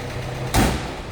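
A 1968 International Scout 800 4WD engine idles while warming up with the choke partly in. It makes a steady low rumble, and a sudden loud thump breaks in about midway.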